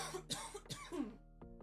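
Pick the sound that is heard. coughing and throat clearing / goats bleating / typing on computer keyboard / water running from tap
coughing and throat clearing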